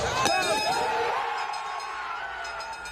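A victory bell at a high school football championship is struck and rings out with a bright clang, its tone slowly fading over a few seconds above a faint crowd murmur.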